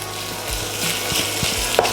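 Chunks of wild boar meat frying in a pan give off a steady sizzle, with a few soft knocks and stirring clunks scattered through it.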